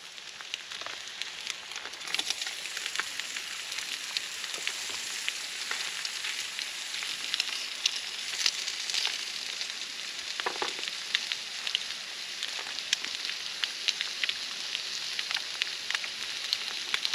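Olive oil sizzles in a skillet over a campfire at a bushcraft lean-to in the Alabama woods, a steady close crackling hiss with small pops throughout.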